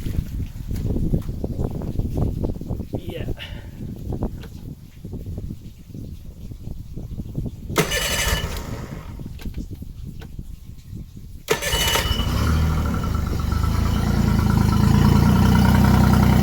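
Mercury outboard motor being started after an oil and filter change: low rumbling and knocks, two brief bursts of cranking, then the engine catches and settles into a loud, steady running drone.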